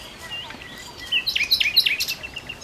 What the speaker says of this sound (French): L'oiseau que vous pourrez encore entendre, c'est le pinsant des arbres.